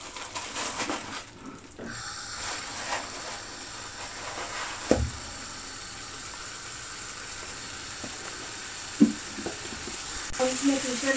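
Green chili and fenugreek leaves sizzle and fry steadily in a pan of chana masala, a British Indian restaurant-style side dish, with a constant hiss, occasional stirring knocks and a brief quieter moment near the start.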